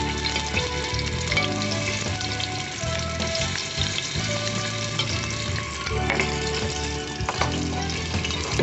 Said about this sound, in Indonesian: Kita panaskan minyak. Kemudian tumis bumbu yang telah dihaluskan.